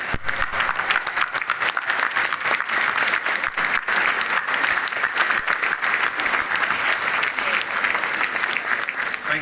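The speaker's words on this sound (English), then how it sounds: "Give them a huge round of applause" Graduation ceremony audience at City of Glasgow College applauds the graduates on stage, a steady wash of many hands clapping throughout, fairly loud and unbroken, with some crowd noise mixed in.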